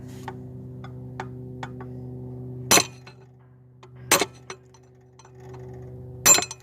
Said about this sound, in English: you can see where I've started punching it with a hammer and a punch